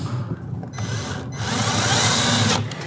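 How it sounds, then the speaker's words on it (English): A power drill drives a screw into a curtain track bracket on a bay window, with a close, loud whirring that starts, pauses briefly, then runs on steadily, rising in strain toward the end. "I'm just going to put one screw in now just to hold this track up to stop it flopping around."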